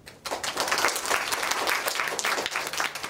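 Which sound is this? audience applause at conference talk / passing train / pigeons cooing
audience applause at conference talk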